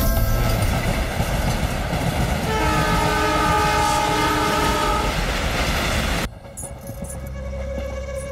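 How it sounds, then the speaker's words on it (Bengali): A train passes through a station, a loud continuous rumble of wheels and carriages with a sustained horn blaring over it for several seconds before the noise drops away abruptly, no speech. "তুমি ট্রেনের আওয়াজ শুনতে পাচ্ছ না?"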